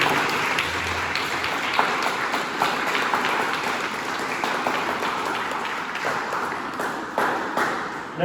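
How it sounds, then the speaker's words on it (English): Sustained audience applause for fifth grade students at an elementary school celebration assembly, a crowd clapping steadily for several seconds with a faint constant high tone underneath. "Can we give these guys a round of applause?"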